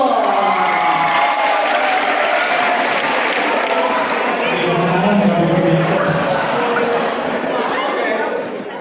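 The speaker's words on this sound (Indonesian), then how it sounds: "Tepuk tangan dulu." A large crowd at a civic national-awareness event in Bekasi applauds and cheers, with loud, dense clapping, whoops and voices rising together and thinning slightly near the end.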